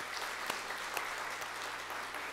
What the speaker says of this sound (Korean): 우리 박수로 맞이합시다.